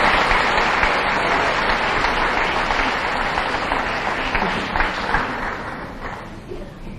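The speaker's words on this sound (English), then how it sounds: "So I know that they would appreciate, another round of applause as they exit the stage here." Sustained audience applause fills a pageant hall as Miss Shamrock contestants leave the stage, dense and steady, tapering slightly toward the end.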